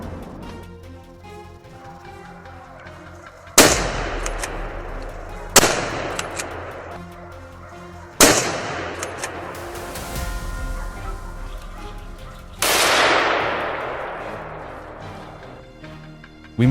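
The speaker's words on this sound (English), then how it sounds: "Without wasting much time, my friends and I opened fire." Gunfire from a wild boar hunt on a French grape farm: four loud, sharp shots spaced a few seconds apart, each echoing and decaying over a steady background, with no talking.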